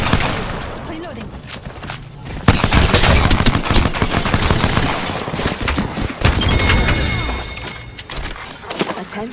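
Rapid pistol fire from a dual-wielded handgun in the Apex Legends battle royale game, loud bursts of repeated shots with short pauses over busy in-game effects, close and sharp.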